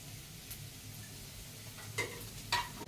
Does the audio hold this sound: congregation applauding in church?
no